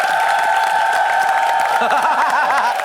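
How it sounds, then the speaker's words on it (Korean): Dense applause from a Korean TV studio audience for a contestant, loud and sustained throughout, with some chuckling near the end. "우리 김현철 씨에게 박수 한번 부탁드려야 되겠는데요"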